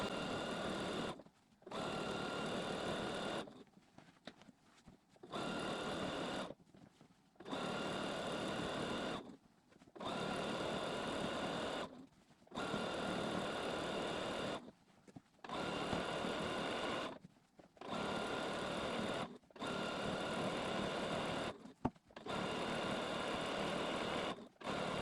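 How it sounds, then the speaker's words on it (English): A sewing machine stitches quilt lines through a spray-basted quilt in long steady runs, each lasting a few seconds and broken by short pauses as the fabric is repositioned, loud and close with no talking. "And then I just pull it back through and I can stitch the next line."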